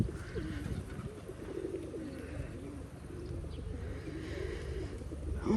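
Soft, low pigeon coos repeat through a steady outdoor park background hum, fairly faint and continuous, with no talking.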